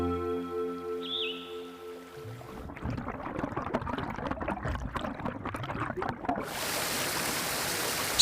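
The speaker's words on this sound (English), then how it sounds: "Streams spring up from the lake, forming waterfalls as they descend, and join with other streams to form mountain rivers." A mountain stream running down from a lake makes a steady, gurgling splash. It comes in after a stretch of sustained tones, and soft birdsong sounds faintly nearby.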